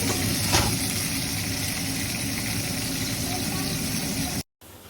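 Lamb chops fry in a pan with a steady, dense sizzle that crackles close up for several seconds before cutting out abruptly near the end.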